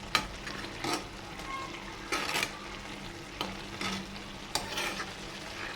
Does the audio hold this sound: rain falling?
no